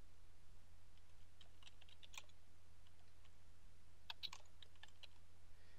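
A computer keyboard is typed on in short, quiet bursts of clicks to enter a search query, faint and close against a low steady hum, with no voice.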